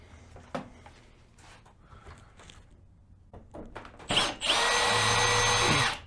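A few light knocks and handling noises, then a power drill driving screws into a trailer roof vent whirs loudly and steadily for nearly two seconds, close by.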